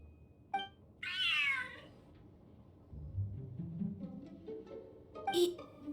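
Large cat in the video game Genshin Impact giving a clear drawn-out meow, preceded by a short chirp and followed by low rumbling sounds and another brief cry near the end.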